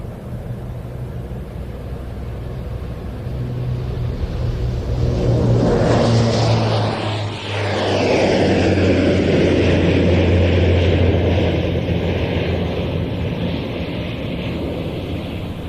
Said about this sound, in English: that was a C-27J Spartan of the Slovak Air Force, one of two C-27s operated by that nation